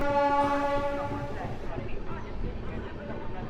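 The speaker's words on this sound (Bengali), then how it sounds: "22387 হাওড়া ব্ল্যাক ডায়মন্ড এক্সপ্রেস" 22387 Howrah Black Diamond Express departing Bandel station: a loud, sustained train horn opens, then fades into a low rolling rumble of carriages under a speaking voice.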